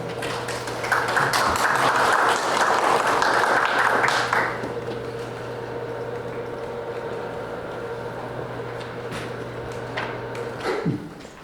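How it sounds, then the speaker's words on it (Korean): Applause welcoming a National Assembly member at a game-industry event, a dense burst of clapping for the first few seconds that thins to scattered claps over a steady background tone, with a sharp clatter near the end. "이용호 의원님 박수로 모시겠습니다"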